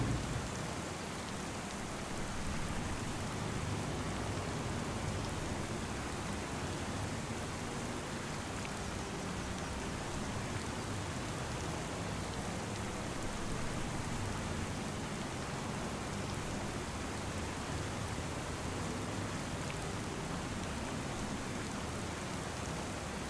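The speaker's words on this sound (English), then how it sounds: "Apparently, while it's raining." Steady, dense rain pours down in Farming Simulator 25, a continuous broadband hiss that holds at an even level for the whole stretch with no voices over it.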